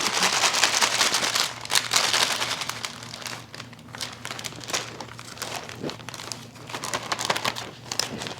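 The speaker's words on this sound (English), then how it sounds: "So I'm just going to dump this right into this bag and seal it up." Fresh produce dumped into a bag and sealed shut, heard as close, loud plastic crinkling and rustling in bursts with brief pauses, steady handling noise throughout.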